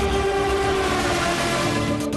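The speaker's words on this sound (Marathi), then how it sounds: "स्वतः महाराष्ट्राचे मुख्यमंत्री देवेंद्र फडणवीस हे आज शिर्डीला वंदे भारत एक्सप्रेसने जात आहेत" Inside a Vande Bharat Express running between Mumbai and Shirdi, a steady loud rumble fills the cabin, with a faint sustained tone that might be a distant horn. There is no talk.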